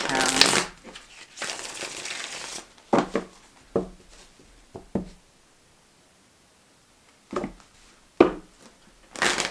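Tarot cards being shuffled and pulled during a reading, with a few brisk riffling bursts, then scattered soft taps and card slaps separated by quiet gaps, close to the listener.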